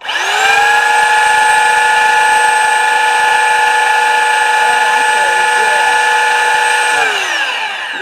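A power sander spins up on wood while building a backyard pergola, a loud, steady high-pitched whine with strong tonal harmonics that holds for about seven seconds before winding down.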